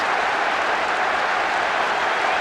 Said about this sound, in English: The crowd expressing frustration in no uncertain terms.